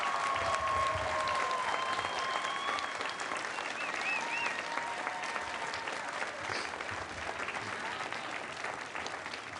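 A large audience at a university spring commencement applauds in sustained, dense clapping that fills the hall, with faint cheers and whistles mixed in before it gradually thins.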